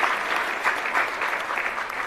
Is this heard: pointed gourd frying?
no